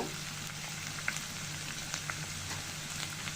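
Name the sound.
onion paste frying in a pan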